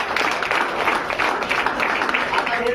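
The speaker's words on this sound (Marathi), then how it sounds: "जोरदार टाळ्या झाल्या पाहिजे." An indoor seminar audience breaks into applause, a dense, even wash of clapping that stays loud and steady throughout.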